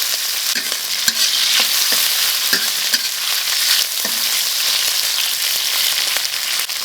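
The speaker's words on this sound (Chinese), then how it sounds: "入肥肉， 把肉炒熟啊。" Pork fat and meat stir-frying in an oiled wok, a loud, steady sizzle with scattered scraping stir strokes from a utensil throughout, close up and without talk.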